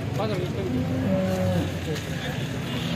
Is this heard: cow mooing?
yes